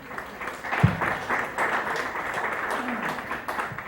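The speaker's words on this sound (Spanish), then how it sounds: "Un fuerte aplauso para él" Audience applause for a guest at a political roast event, a short burst of crowd clapping mixed with chatter and voices, moderately loud and fairly brief.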